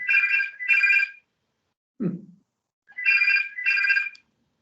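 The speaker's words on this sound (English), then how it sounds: "let me switch our phone off" A phone rings during a council sub-committee meeting, two pairs of bright electronic ringtone bursts separated by a short gap, with a brief low knock between them and no talking.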